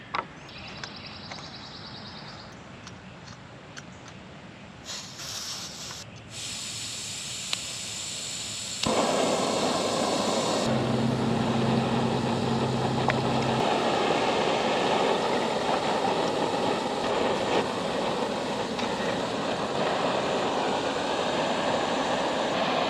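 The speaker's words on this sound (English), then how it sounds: "I got the water boiling now" A steady broadband hiss and roar of a camp stove heating water for a titanium coffee press fills most of the clip, growing louder partway through and staying constant with no talking.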